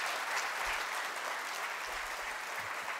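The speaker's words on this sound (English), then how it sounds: "May I request the audience to give a huge round of applause to our keynote speaker." Audience at a memorial lecture applauding the keynote speaker, with sustained, even clapping from a large crowd filling the room throughout.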